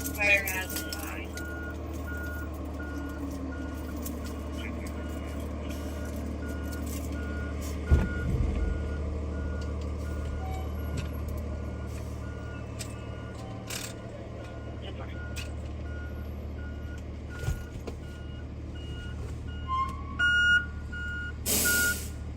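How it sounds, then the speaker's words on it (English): Truck backup alarm beeping steadily in a noisy outdoor city scene, starting with a few faint beeps before turning loud, with talk and traffic rumble underneath. "Loud ass backup alarm for a second"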